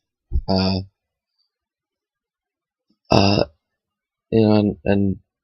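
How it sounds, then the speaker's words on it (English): A few short, guttural belches come close and loud, separated by silent gaps, with a brief low vocal sound at the start. "Excuse me, burping."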